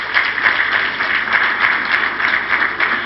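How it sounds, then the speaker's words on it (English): An indoor audience at a 2014 leadership awards event claps for the governor of Borno State, producing dense, continuous applause at an even level for a few seconds, with no voices above it. "Please give him a round of applause."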